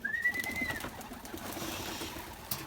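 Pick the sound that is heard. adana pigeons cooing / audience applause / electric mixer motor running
adana pigeons cooing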